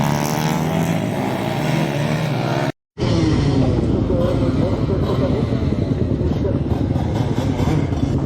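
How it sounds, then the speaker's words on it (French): A KTM 125 Duke motorcycle runs on a race track, its engine whining loud and close with a buzzing high-revving drone, a brief dropout partway through, then the engine noise resumes at full volume. "on n'entendra rien que le bruit de la moto"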